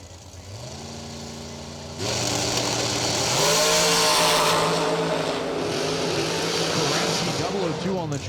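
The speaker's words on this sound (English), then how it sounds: "So it's Koretsky rolling in with the 2019 American Chassis Dragster." A 2019 American Chassis dragster rumbles at idle at a drag race, then launches about two seconds in. The engine note rises into a loud sustained roar with climbing pitch, and an announcer talks over it.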